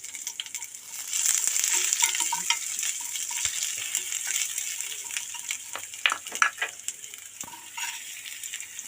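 Garlic and ginger frying with mustard seeds in a pan of oil for jackfruit pickle, a steady bright sizzle with crackling pops and occasional stirring scrapes, close and continuous, no voices.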